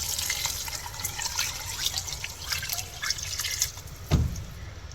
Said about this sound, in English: Now I'm going in with some water.